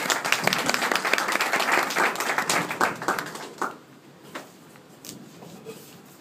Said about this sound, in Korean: 우리 다 같이 박수로 맞이하겠습니다.